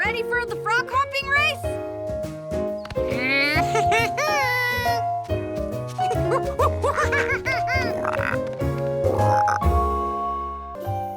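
Cartoon frog croaking at a frog hopping race, a series of loud, close croaks and squeaky calls over a busy musical score with children's chatter and giggles.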